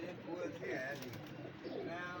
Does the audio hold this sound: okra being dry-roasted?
no